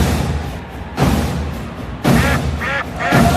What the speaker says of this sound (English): Ducks all over the pond.